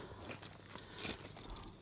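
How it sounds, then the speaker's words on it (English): A bunch of keys from an everyday-carry kit jangling up close, with soft, irregular metallic clinks and rattles over a couple of seconds and no speech. "Keys."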